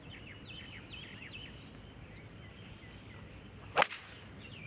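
A golf club strikes a ball on a Hainan golf course with one sharp, bright crack amid quiet outdoor ambience and faint birdsong chirps, followed by a softer click at the end.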